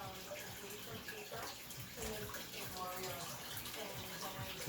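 Water pours steadily over a compressed iron tea cake, a continuous splashing, gurgling stream heard close and fairly loud throughout.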